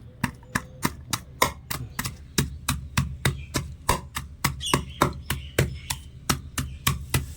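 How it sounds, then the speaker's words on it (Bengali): Green chillies and ginger pounded in a bowl, a steady run of sharp, evenly spaced thuds, close and loud, with no talk. "একটা বাটির মধ্যে তিনটে কাঁচা লঙ্কা আর কয়েক টুকরো আমি আদা নিয়েছি এবারে একটু থেতে করে নেব"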